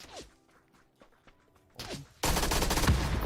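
Gunfire in the video game PUBG, with quiet early moments of scattered thumps and a voice, then a sudden loud, dense burst of shots that fills the last second and a half.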